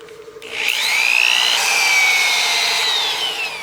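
A power drill spins 320-grit sandpaper against a wooden utility box turning on a lathe, with a rising, wavering whine and rubbing hiss that swells in and holds steadily, close and fairly loud.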